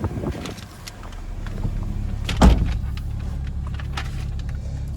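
Someone climbs into the driver's seat of a 2001 Toyota Tacoma regular cab with about 228,000 miles: shuffling and seat creaks, then a single loud door thud midway, followed by quiet cabin ambience with no talk.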